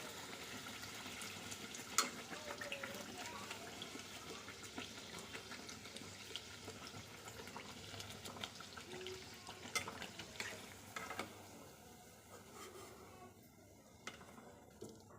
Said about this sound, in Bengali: তেলটা গরম হয়ে গেছে আর এখন কচুরিগুলো ছেড়ে দিচ্ছি